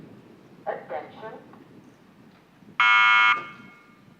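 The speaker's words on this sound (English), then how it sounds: "There goes the buzzer." A loud electronic race-start buzzer sounds for about half a second at a World Rowing Cup regatta in Poznan, Poland, following a brief spoken call over a quiet outdoor background.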